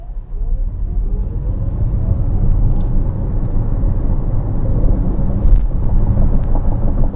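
A 2023 Toyota bZ4X Limited electric crossover accelerates from a stop to 60 mph uphill, a low, steady cabin rumble of road and tire noise that builds slightly, with a faint rising electric motor whine and no talking.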